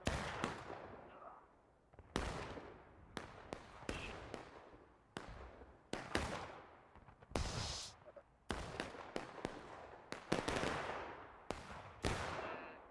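Black-powder musket gunfire in War of Rights, an American Civil War battle game on the School House Ridge map: sharp cracking shots fired singly and in quick clusters, near and far, with echoing tails between volleys.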